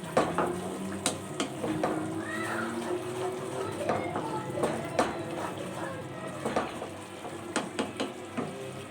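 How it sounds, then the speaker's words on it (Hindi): Spices being stirred into frying garlic and ginger in a pan for a bottle gourd and potato curry. A steady sizzle runs throughout, broken by repeated sharp spoon taps and scrapes, with a voice talking over it. "अब इसमें मैं तमाम मसाला जात ऐड कर दूंगी और अच्छी तरह से मिक्स कर लेंगे"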